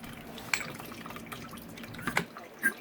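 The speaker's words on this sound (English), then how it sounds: "and now I'll drain that out." Old oil draining from the rear shock of a 2017-or-later Honda CRF450R or CRF250R, scattered close drips and small splatters over a faint background hum, a few sharper drops near the end.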